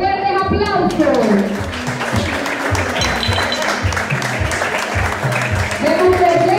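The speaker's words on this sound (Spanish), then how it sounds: "Jamie Duarte y su caballero Javi Núñez, fuertes aplausos." An audience at the coronation of a festival gold queen at the Feria de las Flores in Sabanetas, Olanchito, breaks into sustained applause, dense and close, while an announcer's voice carries over the clapping at the start and end.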